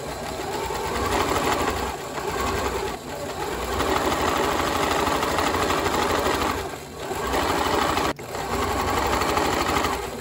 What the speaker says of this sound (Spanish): Estoy cosiendo el ruedo del pantalón con puntada, retirando los alfileres.